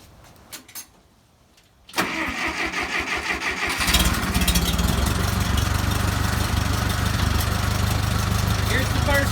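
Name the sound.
old tractor engine idling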